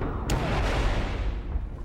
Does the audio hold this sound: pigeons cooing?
no